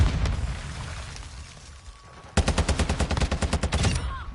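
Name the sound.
Semtex grenade explosion and gunfire in video game MWII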